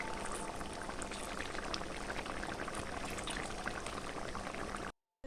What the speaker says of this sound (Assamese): উতলি আছে আমাৰ কচুৰ আঞ্জা